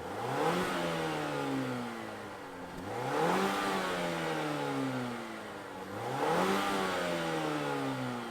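Turbocharged 2.5-liter engine in a 2023 Mazda 3 hatchback, revved three times in a row, each rise climbing in pitch and then easing back, loud and steady with no talking.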